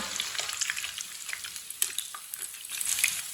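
Homemade potato chips sizzling in a pan over a medium flame, a steady crackling fry dotted with sharp pops and spits, close and fairly loud, with no talking.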